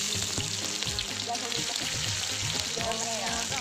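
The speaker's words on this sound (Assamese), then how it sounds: "আৰু ব্ৰাউন কালাৰ যোৱা মতে ভাজি লাগিব" Onions, bay leaf and dried chili sizzle in hot oil in a home kitchen, a steady close crackle with light stirring and scraping throughout.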